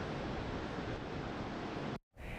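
Choppy ocean surf on a hurricane-stirred coast makes a steady, dense roar of rushing water, loud and unbroken, before cutting out abruptly near the end.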